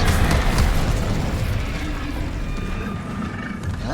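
Incendio fire spell cast in Hogwarts Legacy, a loud roaring burst of flame with a booming onset that fades into a sustained rumbling whoosh, with no talk.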